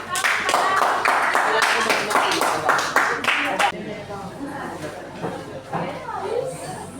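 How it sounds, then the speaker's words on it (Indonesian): A crowd claps for several seconds after a group presentation in a teaching class, then the applause fades into murmuring voices and light chatter. "Kita beri tepuk tangan"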